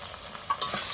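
Masala with turmeric and salt being stirred in a pan for a potato and paneer curry, with soft scraping strokes and a brighter sizzle swelling in the final half-second, close and alone.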